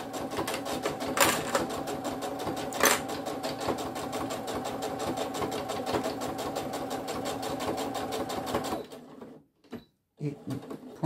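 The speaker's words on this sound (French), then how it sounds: "Là, je fais ma petite surpiqûre pour bien prendre tout" A sewing machine topstitches a fabric phone pouch with a fast, steady mechanical chatter that runs close and loud for several seconds, then stops, leaving a few brief clicks and handling noises.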